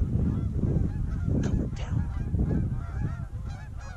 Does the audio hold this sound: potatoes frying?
no